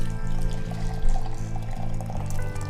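Hot water pours into a French press coffee maker to preheat the glass, a steady splashing stream with a faint rising fill tone, close and continuous over a low background hum.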